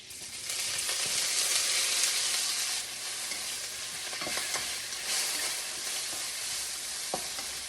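Shrimp and imitation crab meat dropped into hot oil, producing a loud, dense sizzle that eases after a few seconds, with occasional spoon taps and stirring scrapes.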